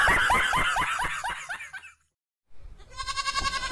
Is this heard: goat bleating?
yes